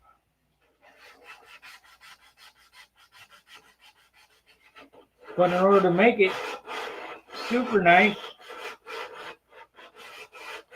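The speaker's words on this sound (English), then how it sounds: "Just got to keep sanding." A P-47 model is hand sanded in short, rhythmic rasping strokes close by. Someone speaks partway through, his voice louder than the scraping, which carries on around and after his words.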